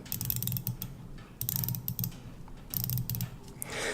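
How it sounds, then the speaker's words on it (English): A 120-click unidirectional bezel on a Seiko 6309 or SRP777 dive watch is turned by hand. Loud, close, rapid ratcheting clicks come in three quick bursts with short pauses between them, and a brief rustle follows at the end. "This one is 120 click unidirectional. It turns much easier and the clicks are quite a lot louder."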